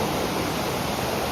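Menal waterfall roaring as a loud, steady wash of falling water, close and continuous, with no voices.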